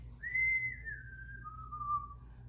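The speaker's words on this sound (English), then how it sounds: "he started whistling a little tune" A single person whistles a short, gliding tune, the notes sliding downward, clear and close over faint background hum.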